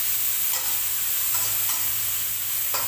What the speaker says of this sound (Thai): ผัดกะเพรา